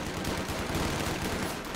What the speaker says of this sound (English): Keep in mind, we are shooting in the window here